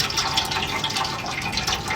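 Water and apple vinegar pouring into a pot for pickling eggplant, a steady close splashing gush that runs continuously without pause.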